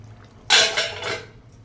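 A lid set onto a cooking pot of potatoes frying in oil, giving a sharp metallic clatter followed by a few lighter rattles as it settles, fairly close and with no voices.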